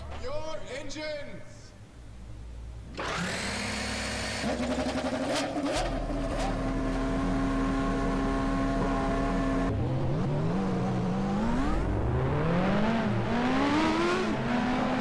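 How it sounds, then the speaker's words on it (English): Race car engines in the NR2003 racing game start up and rev, a loud, steady drone of engine tones that climbs and swells through the clip. "Drivers, start your engines!"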